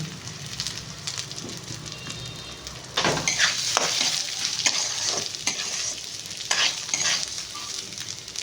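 Food mixed directly in a hot kadai (wok): steady scraping and stirring over crackling frying that grows louder partway through, with sharp spatula strokes and no voices.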